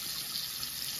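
Water running from a household faucet while its temperature is checked, a steady, even hiss of flow with no pauses or voices, fairly close and moderately quiet.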